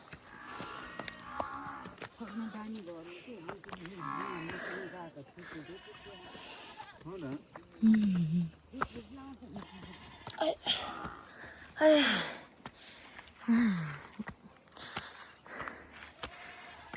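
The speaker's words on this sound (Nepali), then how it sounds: "बाख्राहरू कराइरह त्यहाँ" Goats bleat in a hillside village, mixed with deep lowing from cattle nearby; several loud calls stand out between stretches of people talking close to the microphone.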